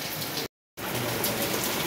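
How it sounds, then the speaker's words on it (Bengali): Heavy rain pours down in a steady, dense hiss, broken by a brief moment of silence before the downpour carries on unchanged. "এই দেখো এখন বৃষ্টি নেমে গেছে"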